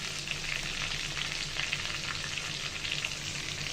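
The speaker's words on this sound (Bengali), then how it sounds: "তো এই পাশটা মিডিয়াম জাল দেখে ভেজে নিব।" Chicken chops fry in hot oil over medium heat, giving a steady, dense sizzle that runs unbroken and close throughout with no voices.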